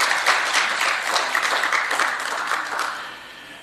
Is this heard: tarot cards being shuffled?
no